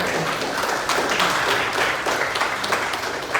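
An audience in a hall claps for the event organisers, a dense, sustained burst of many hands applauding at once, loud and even throughout with faint voices mixed in.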